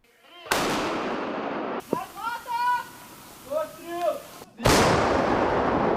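Two loud, booming artillery blasts, one near the start and one near the end, with a person speaking in between.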